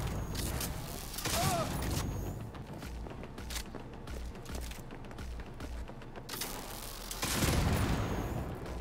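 Rapid bursts of tech weapon gunfire in Cyberpunk 2077, sustained loud firing with dense crackling shots and a few sharper blasts, continuing throughout with no talk.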